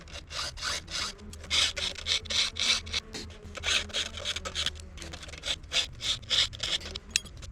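A chainsaw chain is hand-filed with a round file, the steady rasping strokes coming in close, regular bursts with brief pauses between each pass and a short break partway through.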